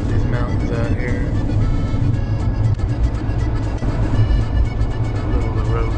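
A giant bus drives along a narrow mountain road in Ireland, its engine and road noise forming a loud, steady low rumble from inside the cabin.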